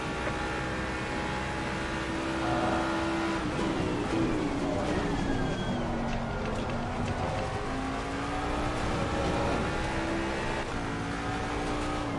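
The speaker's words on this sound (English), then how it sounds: "Car is exiting the pit" A GT3 race car engine drones steadily as the car exits the pit at the Barcelona circuit in a racing video game, the pitch rising and falling with gear changes throughout.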